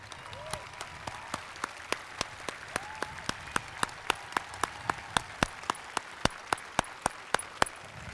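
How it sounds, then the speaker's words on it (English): At an outdoor Penfield, NY Class of 2021 graduation ceremony, teachers and staff are recognized with applause: distinct, evenly spaced sharp claps repeating in a steady rhythm over a faint background hush, growing slightly stronger toward the end. "stand and be recognized with a round of applause"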